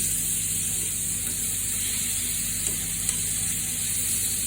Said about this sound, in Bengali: আমাদের ওখানে রাইসটা গরম হচ্ছে আর আমরা এখানে চিংড়ি মাছটা ভাজতেছি।